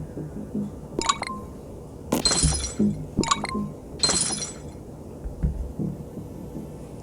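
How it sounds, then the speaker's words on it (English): Bubbles are popped in the video game Plague Inc., heard as several crisp glassy smash-and-tinkle bursts in pairs over a low, steady game music bed. "I still like smashing the bubbles."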